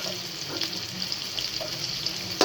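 Sizzling spiced masala in a pan as tomatoes are added, a steady crackling fry with light stirring scrapes and a sharp hiss at the end, without talking.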